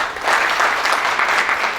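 An indoor audience at a store meeting claps loudly and steadily, dense applause from a crowd close by, with no break across the short stretch.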